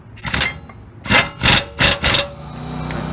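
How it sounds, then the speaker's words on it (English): A pneumatic impact wrench with a flex socket tightens rear disc brake caliper bracket bolts, firing several loud, close bursts of rattling hammering, four in quick succession after a short first burst, with a running compressor hum at the end. "Now we'll get back here with our impact and our flex socket on these bracket bolts"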